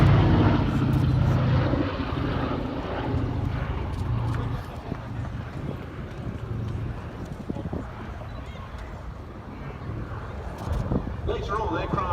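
The B-17 bomber Sally B drones overhead during an air display at Duxford Air Festival 2019, its piston engines giving a steady throbbing hum that gradually fades, with a commentator speaking over it.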